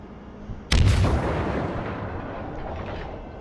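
Ship guns fire in World of Warships, a naval video game: one sudden loud boom of a salvo, then a long rumbling decay that fades slowly.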